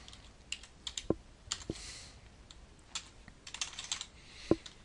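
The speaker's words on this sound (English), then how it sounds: "I'm just typing a bunch of numbers and letters in here." Keys clack on a computer keyboard while equipment details are entered into maintenance management software, irregular quick taps close by with brief pauses, no voices.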